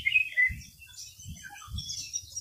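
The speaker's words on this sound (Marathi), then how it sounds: "खूप साऱ्या पक्ष्यांचा आवाज येतोय." Birds chirp in a forest, with several high tweets and calls scattered across the moment, fairly faint over soft low rustling, no talk.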